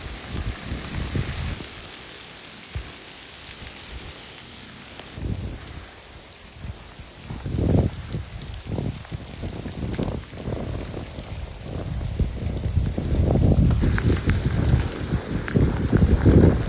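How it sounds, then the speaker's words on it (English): Freezing rain falls steadily in a village during a devastating ice storm, a continuous close patter and hiss of drops on surfaces with gusty rustling swells, alone without voices. "We're getting 2 days of freezing rain."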